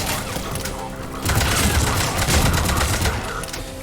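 Gunfire in the video game Mass Effect rattles as a dense, continuous fusillade that grows louder partway through, with bursts of rapid shots and booms over a busy battle background while voices call out.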